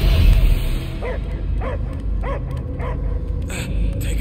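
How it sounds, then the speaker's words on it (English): In the Guardians of the Galaxy video game, a dog barks in a steady series of sharp, evenly spaced yelps, roughly twice a second, over a constant game ambience. "I hear only barking."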